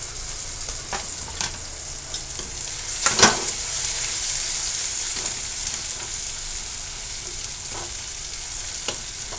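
Potato pieces fry in a hot pan for pav bhaji, a steady bright sizzle with occasional stirring scrapes and one louder crackle burst early on, close and continuous with no talking.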